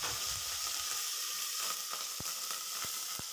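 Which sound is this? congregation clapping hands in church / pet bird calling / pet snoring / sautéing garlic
sautéing garlic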